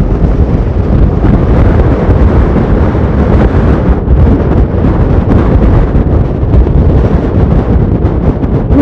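Strong wind gusts buffet the microphone while riding along Ruta 40 in Argentina, a loud continuous rumbling roar that surges and dips without letup, with no voices.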